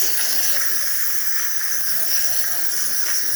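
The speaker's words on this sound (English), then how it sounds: "Once the thermoblock reaches optimal temperature, then we'll see the steam coming out just like that." A loud, steady hiss of steam blasts continuously from the steam wand of a Saeco Magnet espresso machine, with no pauses.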